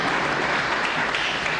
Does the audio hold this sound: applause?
yes